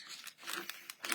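Scissors snip through paper or card for handmade Christmas tags, a few quick, close crisp cuts with slight rustling, quiet and alone.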